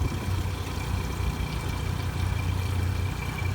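Outboard engines on a 2020 Sea Ray Sundancer 320 boat idle with a steady low drone, continuous at an even level, with no change in pitch and no voices.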